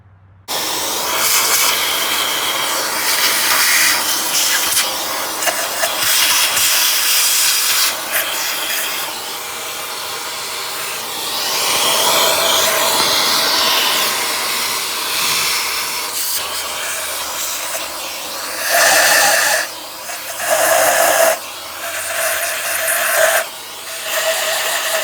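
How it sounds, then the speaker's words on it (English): Someone blows debris out of the spark plug area of a 2009–2016 B8 Audi A4 2.0T engine with a vacuum or compressed air. The hiss is loud and continuous, with several short bursts and pauses near the end. "Might as well vacuum again, or use an air compressor or something, or compressed air."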